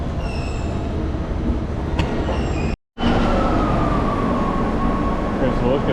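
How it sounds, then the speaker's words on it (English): Metro train running at an underground platform in Rome, a loud continuous rumble and rail roar with a brief dropout midway, then a rising whine as the train moves, filling the whole stretch. "Here's a look at the metro."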